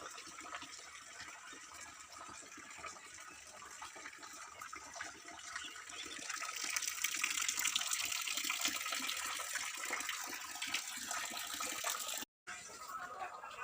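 Rainwater pours and drips off a concrete roof slab at a cowshed during a downpour, a steady hissing splash that swells midway, close and fairly loud, with no talking.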